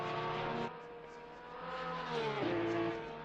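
A Porsche 913 race car engine at Oulton Park in Assetto Corsa Competizione, a steady near drone that rises in pitch as it accelerates, drops sharply on a gear change and then climbs again, with no talk.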